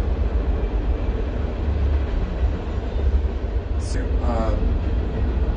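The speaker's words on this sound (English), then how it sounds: "I know there's a train going by." A passing train rumbles as a steady, loud low-frequency roar through the whole stretch, with a brief high squeal partway through and a voice speaking briefly over it.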